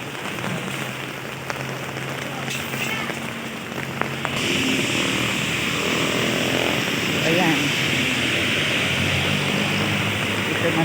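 Sudden heavy rain pours down in a dense, steady hiss that grows louder partway through, with a faint low engine-like drone beneath and a voice briefly speaking early on.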